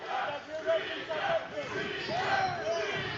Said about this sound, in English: We heard the chant of DeLaVega, now the chant of Streaker